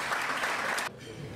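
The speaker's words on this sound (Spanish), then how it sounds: "Un aplauso para el doctor." A short burst of applause from a crowd at a ceremony, dense clapping that cuts off abruptly into quiet room noise.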